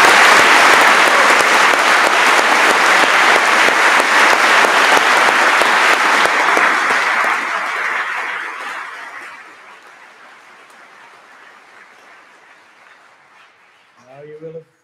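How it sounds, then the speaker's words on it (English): University graduation ceremony audience breaks into loud sustained applause with a few chuckles, holding for about seven seconds before fading to quiet, then a brief voice returns at the end. "ladies and gentlemen, I think that deserves another round of applause"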